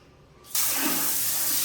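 A water spray in a newly renovated bathroom switches on abruptly after a quiet moment, then hisses in a loud, steady, pressurised rush close to the microphone.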